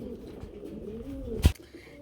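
Red Dauka pigeons give a low, soft cooing hum that carries along close by. A single sharp knock cuts through partway.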